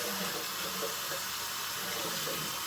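Tap water runs steadily into a sink while a razor is rinsed off during a shave, a continuous close splashing hiss with no talking.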